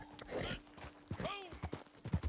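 Horse hooves clop in an uneven, stumbling rhythm as a horse climbs a hillside in Red Dead Redemption 2, soft and fairly faint thuds with a brief whinny-like sound among them.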